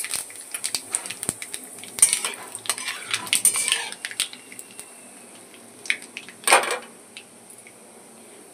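Black cumin seeds frying in hot oil in a kadai wok, heard as a soft crackling sizzle broken by sharp metal clinks and scraping from stirring, with a louder burst of crackle near the end.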